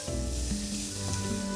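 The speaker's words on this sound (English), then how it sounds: "Love that sizzle. I know. It's a very satisfying sound." Beef frying in hot oil in a pan, cooked for a chilli beef burrito bowl, gives a steady close sizzle with crackling throughout and no talk over it.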